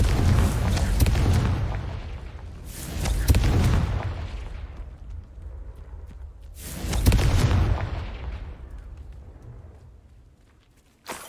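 Repeated blast spell in the Hogwarts Legacy video game: three loud, booming explosions spaced a few seconds apart, each with a sharp onset and a long rumbling decay, and a faint voice in between.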